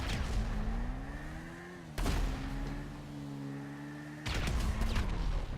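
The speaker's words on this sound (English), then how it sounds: "I just hit numerous explosions behind me." Explosions go off behind a superbike in Grand Theft Auto V, with two sudden loud bursts breaking through the steady, wavering whine of the motorbike engine.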